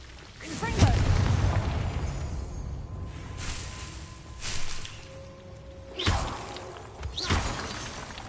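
A Confringo blasting curse goes off in Hogwarts Legacy with a sharp, shattering blast that rumbles on and fades, followed by several further quieter bursts spaced a second or two apart, in a fairly quiet, echoing space.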